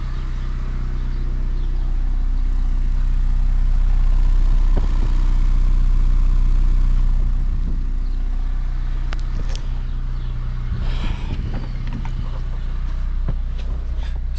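Turbo Honda Civic running on diesel truck oil idling steadily, a low, even engine hum with a faint rattle and a few brief clicks toward the end, no talking.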